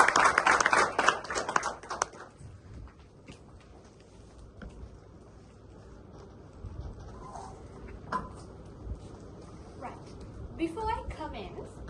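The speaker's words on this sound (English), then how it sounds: "So let us give a big round of applause" A conference audience breaks into a dense burst of clapping for a speaker at a speech event, loud for about two seconds before it quickly dies away into quiet room noise with scattered small sounds.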